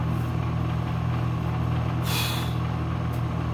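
A loud car engine with no exhaust fitted idles with a steady low hum and rattle, punctuated by a brief hissing burst of air in the middle.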